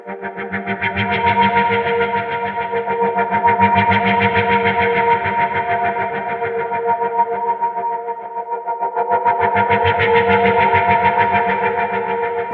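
Sustained buzzy synth tones from ARKE Pianospheres, pitch-shifted up two and three steps, clash in a sour, dissonant chord, swelling and dipping in loudness with a pulsing, effected texture throughout.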